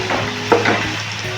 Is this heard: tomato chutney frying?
yes